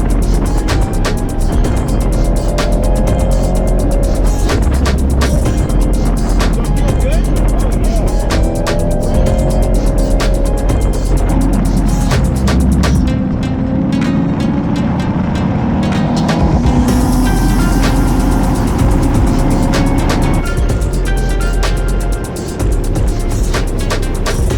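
A Chevrolet Corvette on a fast lap, its engine roaring loud and sustained inside the car, revving up and dropping back through gear changes, with some faint speech.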